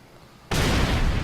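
Explosion in the video game Far Cry, a sudden loud broadband blast that bursts in after a quiet moment and holds as a dense roaring rumble.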